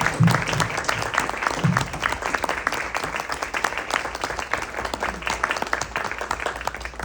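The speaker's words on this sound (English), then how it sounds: "would those of you who are graduating stand up for a second so that we can all clap for you?" Audience applause for graduating Clinical Pastoral Education residents at an evening ceremony, a dense sustained clapping crowd lasting the whole stretch, fairly loud and steady with a few low murmurs underneath.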